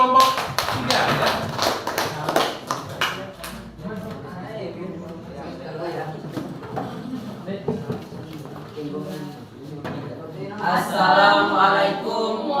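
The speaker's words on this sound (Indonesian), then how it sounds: "untuk semangat aplaus untuk kelompok 3 ya" Scattered clapping from a classroom audience applauding group 3 during a front office telephone-communication lesson, bursting for the first few seconds before fading into talk.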